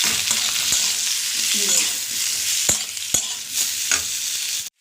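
Ground turmeric, cumin and coriander sizzle steadily in hot oil while a spoon stirs and scrapes the pan with a few sharp clicks, close and continuous with no talk, ahead of cooking a fish curry with potato and eggplant.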